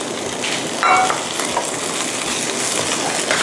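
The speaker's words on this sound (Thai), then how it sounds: "ผัดข้าวนะคะกับเครื่องปรุงอื่นๆนะคะ ให้เข้ากัน" Rice with tomato stir-fried in a pan, a steady close sizzle with scraping and tossing noises from the spatula, no voices.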